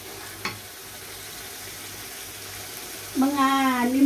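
Tomatoes sauté for a beef ragout, a low steady sizzle running underneath, with a single clink early on and a voice speaking near the end.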